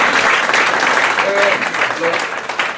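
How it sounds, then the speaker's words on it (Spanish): Audience applause for a panel at a Spanish-language event, a brief dense burst of clapping from a room of people, fairly loud, with a few voices sounding faintly underneath. "Aplausos para el panel."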